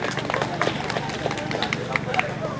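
Outdoor festival crowd clapping for the second contestant in a municipal contest, scattered moderate applause with distinct individual claps and background chatter, fairly distant.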